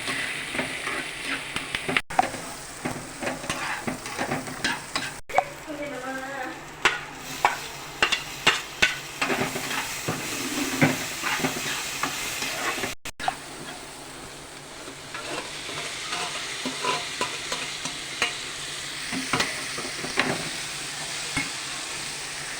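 Dried chillies, curry leaves, garlic, onion and tamarind frying in hot oil, a steady close sizzle broken by repeated clinks and scrapes of a stirring spoon against the pan, with occasional soft voices in the background.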